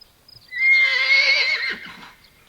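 A blind mare whinnies loudly and frantically, calling out to other horses in one long, close, quavering neigh lasting nearly two seconds, followed by faint hoof scuffs.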